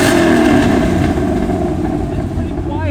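A 500-horsepower Ford Mustang GT with a Valvetronic exhaust rumbles with its valves closed, a loud, steady engine drone that stays fairly subdued in tone throughout.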